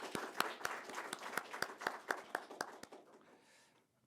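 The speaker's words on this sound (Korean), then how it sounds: "하나님께 영광의 박수를 한번 올려드리겠습니다" A church congregation at a Christmas Day service claps in a steady unison rhythm, about a dozen crisp beats that grow softer and fade out.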